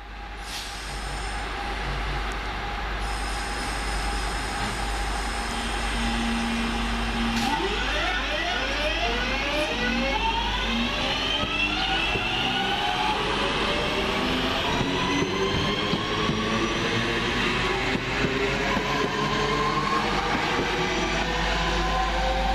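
A train rumbles past at close range at Lea Hall station, wheels squealing and clattering in a long sustained roar under a steady low hum.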